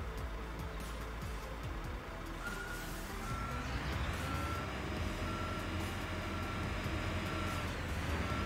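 A truck backing up to hook a trailer in Construction Simulator 2022 sends out a steady series of reversing beeps over a continuous engine rumble, with a rising whine partway through.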